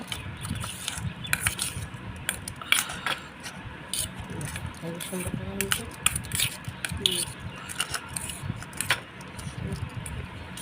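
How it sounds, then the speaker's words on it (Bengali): A spoon mixes red food colour into small tutti frutti pieces in a bowl, giving repeated scraping and clicking strokes close by with a faint voice in the background. "প্রথমে আমি দিয়ে দিলাম রেড কালারটা তো এটাকে খুব ভালো করে মিশিয়ে নেব"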